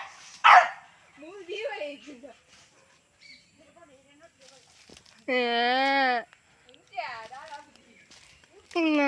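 A dog barks a few times in short bursts, with sustained tonal calls between the barks and quiet gaps between them.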